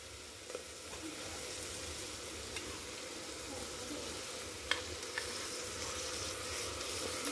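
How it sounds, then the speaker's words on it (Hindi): Spiced vegetables with curd fry in a pan for veg biryani, giving a soft, steady sizzle with faint scraping stirs and a few light clicks, quiet and close, with no voices. "हमने दही को अच्छे से इसमें मिक्स कर दिया है"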